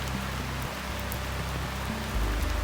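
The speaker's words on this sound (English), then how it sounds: "we came across rainfall during our trek" Steady rain falls on a trek through the Nepal Himalayas in May, a dense, even hiss of drops on surfaces close by, continuous throughout with a low rumble underneath.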